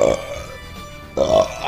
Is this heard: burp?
yes